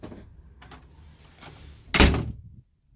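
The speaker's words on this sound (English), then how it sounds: "Luigi, can you go close that door?" A door is shut with a single loud slam near the end, following a stretch of quiet rustling and faint room sounds.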